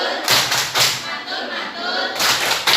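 A classroom group doing a rhythmic clapping chant, tepuk mantul, loud close claps and thumps in a short patterned burst with a pause before a final clap.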